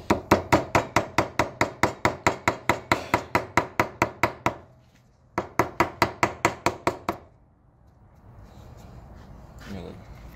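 Hammer tapping out gasket material while rebuilding the carburetor of a 1951 John Deere Model B tractor: rapid, evenly spaced sharp taps in two bursts, close and loud, then a quieter pause.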